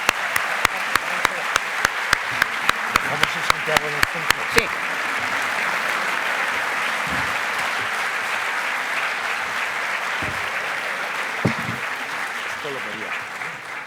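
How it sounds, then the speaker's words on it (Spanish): A historical-novel event audience welcomes a speaker. It opens with a run of sharp, rhythmic claps in unison, which swell into broad, steady applause, and a few voices talk through it. "Santiago, por favor, recibámosle con un gran aplauso."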